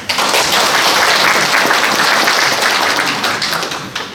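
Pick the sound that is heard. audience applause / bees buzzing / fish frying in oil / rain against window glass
audience applause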